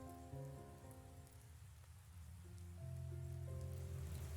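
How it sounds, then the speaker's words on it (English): Heavy rain in the visual novel Cinderella Phenomenon, a faint, steady hiss of downpour under soft sustained music tones, continuous with no voices. "the rain cools my skin. It is coming down so heavily"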